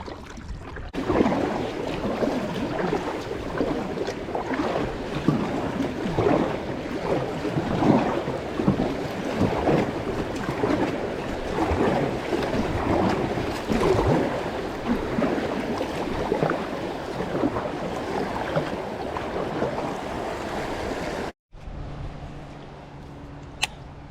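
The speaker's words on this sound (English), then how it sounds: "The water is moving extremely fast." Fast, high creek water rushes steadily around a kayak during a creek fishing trip, a continuous broadband wash with wind buffeting the microphone, fairly loud throughout and cutting to quieter background near the end.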